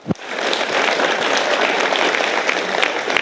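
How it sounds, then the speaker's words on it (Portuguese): A concert audience bursts into loud, sustained applause after a brief sharp onset. The dense, close clapping stays steady for about three seconds. "Pode aplaudir."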